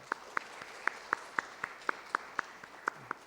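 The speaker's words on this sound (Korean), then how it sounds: "우리 크게 한번 박수하도록 하겠습니다." A Korean church congregation claps in a slow, steady rhythm, about a dozen crisp, evenly spaced claps in unison over a quiet room.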